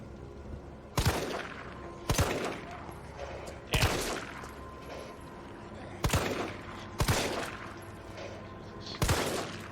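Gunfire in a video game: six or seven sharp shots spaced roughly a second or two apart over a low background hum, each a loud, close crack with a short tail.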